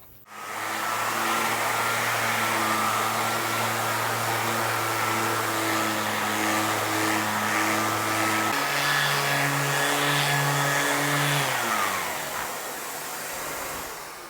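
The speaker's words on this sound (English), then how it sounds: "I think I will get out the random orbit sander." A random orbit sander works over a guitar body blank in a workshop, its motor whining steadily and loudly for about eleven seconds, shifting pitch partway through, then spinning down near the end.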